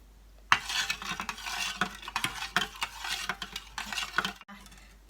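Pickled fern liquid stirred in a metal pot as it comes to a boil, a busy run of close scraping and clinking spoon strokes over a bubbling hiss, stopping briefly near the end.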